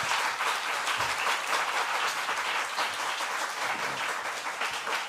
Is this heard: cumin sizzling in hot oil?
no